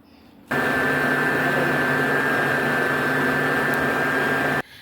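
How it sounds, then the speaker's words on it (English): A hood hair dryer switches on abruptly and runs with a steady loud whirring drone and a fixed whine, then cuts off sharply. "I'm going back under the dryer for 15 minutes"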